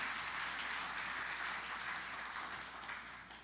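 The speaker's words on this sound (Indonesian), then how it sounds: "kasih tepuk tangan buat Tuhan Yesus yang terbaik" A church congregation claps together at a sermon, a soft, even wash of applause heard at a distance that holds steady and fades slightly at the end.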